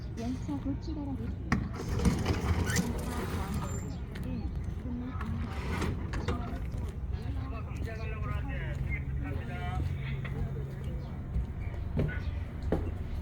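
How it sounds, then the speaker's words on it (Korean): Inside a Korean Mugunghwa passenger train during the ride, a low rumbling hum of the carriage runs throughout with occasional clacks and knocks, while people talk nearby. "기차 무궁화호 기차를 탔습니다."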